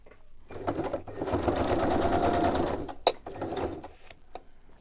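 A sewing machine stitching fabric with dark thread, a loud, fast mechanical whir of needle and gears running for a couple of seconds, then a sharp click and quieter handling.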